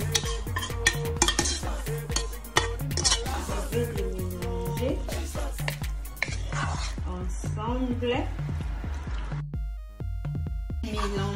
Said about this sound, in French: Je verse les pondu sur les haricots.